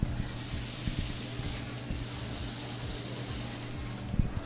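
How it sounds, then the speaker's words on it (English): Seasoned burger meat sizzles on a grill after being patted down with a spatula, a steady close-up crackling hiss with faint scraping ticks underneath. "That's a great sizzle right there"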